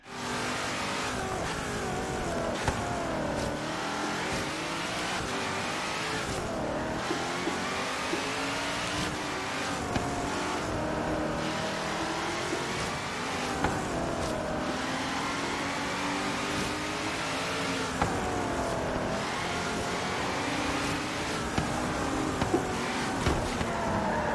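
A Le Mans prototype race car in Forza Horizon 3 revs hard and continuously, its engine note climbing and dropping through repeated gear shifts at close range and steady high loudness, with no talking.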